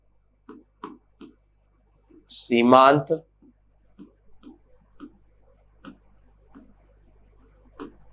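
Chalk or marker on a classroom board makes short, faint tapping and scratching strokes, with someone speaking over them.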